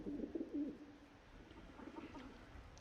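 Pigeons cooing in the game Skyrim, a few soft low throaty coos near the start followed by fainter cooing later, quiet and alone without speech.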